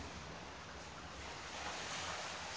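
Sea waves wash onto a beach on Samui a few metres from seaside apartments, a faint continuous surf roar with slight wind noise and no talking.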